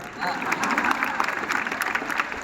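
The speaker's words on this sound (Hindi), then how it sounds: "ताली बजनी चाहिए यहाँ" Audience applause at a Hindi comic poetry recital, a kavi sammelan at a Navodaya school, as a dense steady patter of many hands that holds for a couple of seconds with a faint murmur of voices mixed in.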